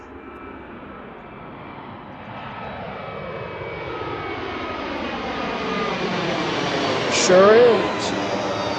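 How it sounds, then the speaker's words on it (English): Boeing 757 jet taking off at Reagan National Airport, a loud rising engine roar with sweeping tones that swells toward the end, while a brief voice speaks over it. "That's the third 757 we saw take off this afternoon."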